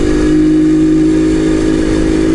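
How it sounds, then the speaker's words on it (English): A motorcycle engine runs steadily on a mountain road, a loud, close, continuous drone with a constant low hum throughout, no talking. "as long as you can hear me over the sound of the engine"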